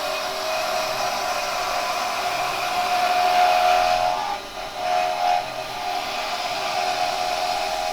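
A wood lathe spins steadily while a square carbide chisel cuts a taper in the workpiece, a continuous close whirring with a brief shift in tone midway, and no talking.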